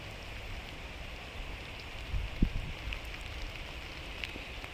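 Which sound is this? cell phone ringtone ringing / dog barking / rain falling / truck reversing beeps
rain falling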